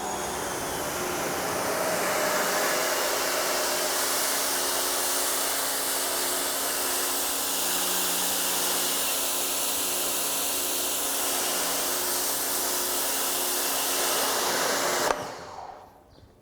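An electric pressure washer fitted with a 15-degree tip sprays in a continuous loud hiss for about fifteen seconds, inches from a surface, then cuts off abruptly.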